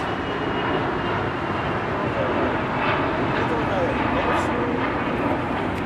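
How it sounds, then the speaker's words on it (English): A Bombardier Global 6000 business jet at LAX gives off a steady, broad engine roar that holds at an even level throughout, loud and continuous, with no pauses. "No, it's a Bombardier Global 6000"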